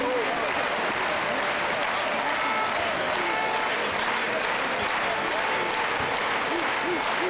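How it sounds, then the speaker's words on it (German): A large audience applauds for a veteran handball team from SG Weiche Handewitt, now SG Flensburg Handewitt, marking 30 years of handball; steady, dense clapping fills the whole stretch with crowd noise and faint voices mixed in. "Nochmal einen ganz, ganz großen Applaus."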